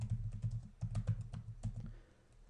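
Computer keyboard keys clatter in quick, uneven bursts as a networking command is typed, close and fairly quiet, easing off near the end.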